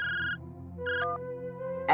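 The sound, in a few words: phone ringing with an incoming call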